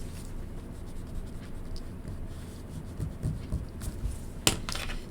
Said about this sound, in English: Now you can go and erase the lines you no longer need.